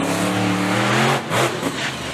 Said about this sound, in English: This truck is a wheelie truck, so let's see how we can do with trying to put on a good performance here.